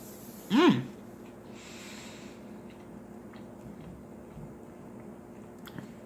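Someone takes one loud, close, crunchy bite of a still-hot homemade sandwich, followed by several seconds of faint, quiet chewing.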